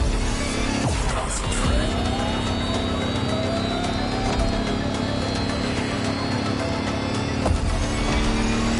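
An electric Lamborghini hypercar concept in the racing game The Crew Motorfest drives continuously with a steady motor whine and road noise, tires squealing briefly near the start and again toward the end.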